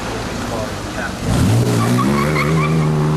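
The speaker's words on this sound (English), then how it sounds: "let's watch some of our favourite cars, Triumphs and MGBs, taking different parts of the hill." Triumph and MGB sports cars racing up a hill climb course, engines rising in pitch as a car accelerates hard and close, with a second engine note joining midway.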